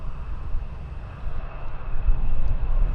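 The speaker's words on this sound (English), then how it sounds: "I believe it's a United taking off back to the US" A United airliner takes off at Schiphol during a windy storm, a loud low engine roar that swells and builds steadily with gusty wind rumble underneath.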